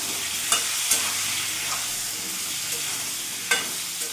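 Pointed gourd (potol) seasoned with turmeric and salt frying in a pan, giving a dense, continuous close sizzle with a few sharp clicks of a utensil stirring the pieces.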